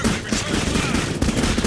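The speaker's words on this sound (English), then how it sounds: "Oh, it's a submachine gun." Submachine gun fire in Clive Barker's Jericho, a loud rapid stream of shots packed closely together and filling the whole short burst.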